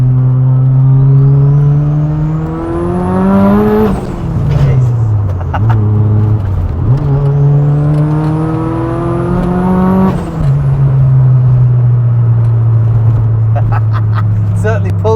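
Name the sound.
650bhp TurboSystems Ford Sapphire Cosworth accelerating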